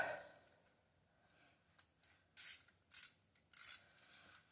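T30 driver tightening the brake rotor retaining screw on a 2016–2022 Chevrolet Camaro, three or four short, bright ratcheting bursts after a few faint clicks, close and clear in a quiet garage.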